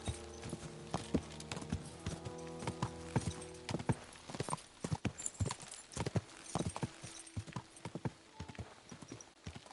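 Steady clip-clop of horse hooves at a quick gallop rhythm in the video game Kingdom Come: Deliverance II, fairly close, with a brief whinny and a faint voice in the background.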